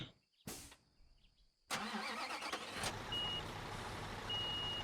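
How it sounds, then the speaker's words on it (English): Low boy truck engine idling and running in Construction Simulator 2015, with a steady mid-pitched engine drone and faint reversing beeps near the end after a brief start-up burst. "where's our truck at? Low boy truck."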